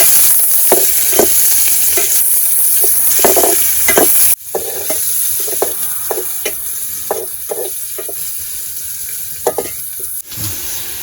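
Curry leaves fry and get stirred in a pan for village-style jackfruit curry, a steady close sizzle broken by repeated scraping strokes of a spoon, with no talking.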